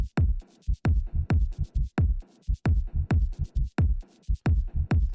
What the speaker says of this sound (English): So all together, this kick and rumble sequence sounds like this.